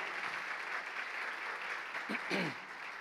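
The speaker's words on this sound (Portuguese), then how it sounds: "Você pode dar uma salva de palmas para eles." A church congregation gives a round of applause, with steady crowd clapping throughout and a voice briefly breaking in near the end.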